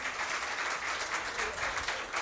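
Audience applause at a school quiz match between two lycées, a steady wash of many hands clapping for the full stretch at moderate level, with no voices over it.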